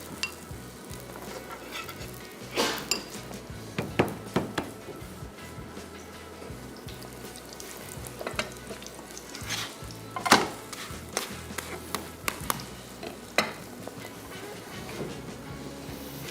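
Ghee sizzles softly in a pan over a very low flame while stuffed aloo kulcha parathas cook. The sizzle is quiet and steady, broken by scattered clicks and light utensil knocks, and no one talks.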